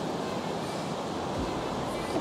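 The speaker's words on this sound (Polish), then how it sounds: "Woda wdziera się coraz głębiej, trzeba uważać." Continuous wash of incoming tide surf rolling onto Woolacombe Beach, with steady wind noise buffeting the microphone throughout.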